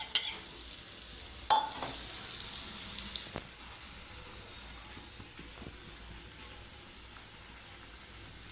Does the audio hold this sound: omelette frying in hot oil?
yes